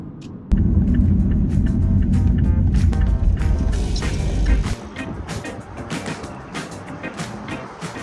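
A car engine rumbles steadily up close for several seconds as the vehicle pulls into a petrol station in Australia, then drops to a quieter idle with scattered clicks and background noise.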